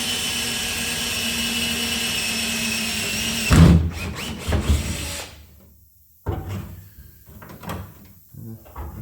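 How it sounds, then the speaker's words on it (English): A power drill whines into metal for a couple of seconds, followed by clunks, scraping and handling noises from tools nearby. "we're gonna drill"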